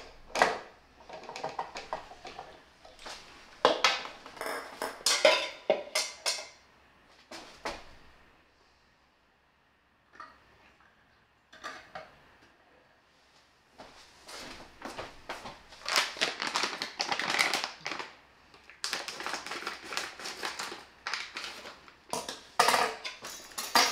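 Knife cutting shrimp in half on a board, heard as irregular close clicks and scrapes in two bursts separated by a quiet gap.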